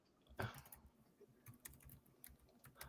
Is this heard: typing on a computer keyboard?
yes